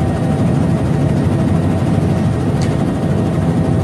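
A helicopter in an action film about a tsunami roars steadily, loud and close, as a dense unbroken wash of engine and rotor noise with no talking over it.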